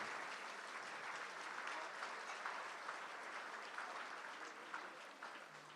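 Applause from a luncheon audience at a mayor's business community event, a broad, even sheet of clapping that holds steady and tapers slightly toward the end, heard alone and at a distance.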